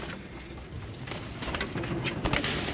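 Royal Teddy breed pigeons coo in a loft, soft repeated low cooing from several birds close by, with faint rustling and no talk.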